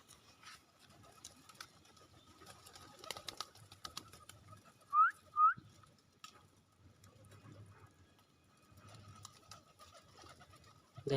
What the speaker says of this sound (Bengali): দেখেন সব চলে আসতেছে কবুতরগুলো।